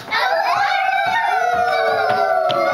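Children's voices imitate dogs howling together, a long sustained chorus of wavering howls, loud and continuous.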